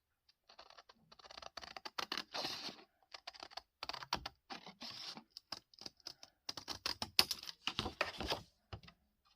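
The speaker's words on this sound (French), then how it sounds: "On les découpe. Je vais utiliser le ciseau." Scissors cutting through card stock for a handmade Father's Day card, close crisp snipping and rustling in quick irregular bursts with short pauses, no talking.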